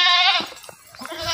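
Beetal goats on a farm bleat loudly at close range, one long wavering cry at the start and another rising at the end, with quieter shuffling noises between.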